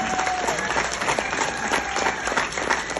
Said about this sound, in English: please join me in a round of applause for our amazing festival volunteers